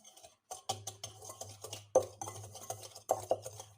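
Softened, room-temperature butter being beaten with a cup of sugar in a bowl for an everyday economical cake: close, repeated scraping and clinking spoon strokes in an uneven rhythm, with no voice.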